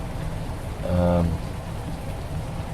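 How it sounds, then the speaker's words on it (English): Steady rain falls across a farm with added silos in the video game Farming Simulator 19, a continuous hiss of drops with a brief louder swell near the middle and no talking. "before all this rain came."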